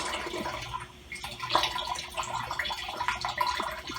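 Fermented radish liquid for homemade kimchi is poured, a soft continuous trickle and splash at close range with a few clinks over a quiet background hum.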